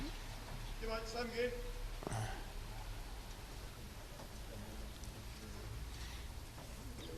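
Steady rain hisses in the background at a lawn bowls match in Dunedin while someone talks over it, the wash of water constant throughout.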